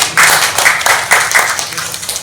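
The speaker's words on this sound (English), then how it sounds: "And a round of applause to Dr. Martin." A brief burst of clapping from a small audience at an academic conference session, a few seconds of scattered hand claps that fade quickly.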